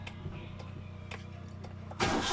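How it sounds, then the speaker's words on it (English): A Hyundai Eon car engine cranks under a steady low hum for a couple of seconds, then catches and starts with a sudden louder burst of broadband engine noise near the end. "let me start the engine and show you how this works."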